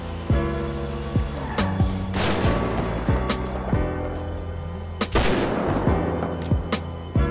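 Sharp gunshots fired in GTA 5, a string of loud single cracks spaced unevenly over several seconds, ringing against a steady background drone.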